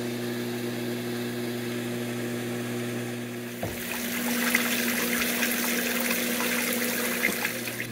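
Hayward sand filter pump on an above-ground pool set to waste or backwash, draining water: a steady motor hum gives way to a louder rushing, gurgling flow of water that continues evenly, no talking.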